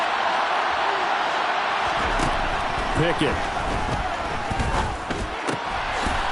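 A stadium crowd at a Steelers football game roars steadily, a loud continuous wash of cheering under a commentator's voice throughout.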